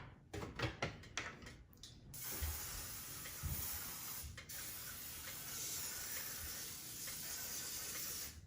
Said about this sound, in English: So now I'm gonna spray my waffle maker.